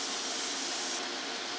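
Tamiya metallic acrylic paint sprayed onto a 1:35 scale T-55A tank model, a steady close airbrush hiss that stops abruptly near the end.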